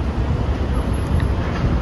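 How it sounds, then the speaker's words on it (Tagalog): Strong wind buffets the microphone outdoors on a cold, sunny day in Canada, a loud, continuous roar with no clear talk. "ang lakas ng hangin"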